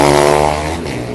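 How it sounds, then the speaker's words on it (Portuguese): A motorcycle with a loud, noisy exhaust pipe passes close by, a brief loud rumbling engine drone that slowly eases off. "Essas motos assim com cano barulhento"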